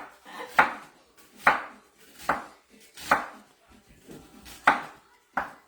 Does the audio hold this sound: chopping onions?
yes